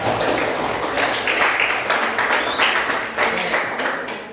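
A school class claps for a rabbit in a computational thinking lesson, a few seconds of loose, moderately loud clapping in a room with background murmur.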